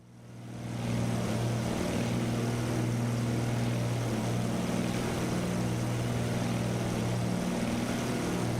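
An aircraft engine in flight in Microsoft Flight Simulator gives a steady, loud droning hum with a constant low tone that swells in over the first second and then holds evenly throughout.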